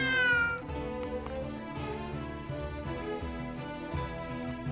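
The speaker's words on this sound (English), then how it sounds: "Cat." In the game Triangle Strategy, a cat gives a drawn-out meow over steady background music, fairly loud and close.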